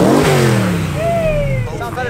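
A BMW 435i engine revs up close in a quick, loud sweep that climbs and falls in pitch, then trails off over roughly two seconds.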